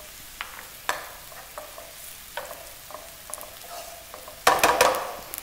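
Ginger garlic paste fries with onions, curry leaves and turmeric in a pan for a spicy chicken tikka masala, a steady soft sizzle under a few scattered spoon scrapes and a louder stirring burst near the end.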